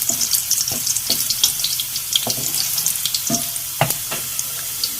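Chopped garlic frying in hot oil for masoor daal, a constant crackling sizzle with scattered sharp pops and an occasional stir or clink, close and fairly loud with no talking.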